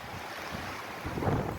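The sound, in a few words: strong storm wind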